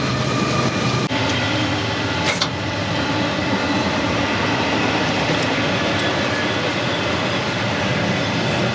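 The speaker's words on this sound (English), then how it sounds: "But first, the train." A train rolls past close by, a steady loud rumble filling the whole stretch with a brief metallic squeal near the start and no voices.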